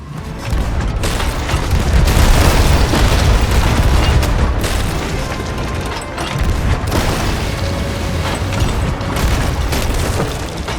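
Ship cannons firing in Sea of Thieves, heavy booming blasts repeating over a roaring sea-battle background, loud and dense for about ten seconds.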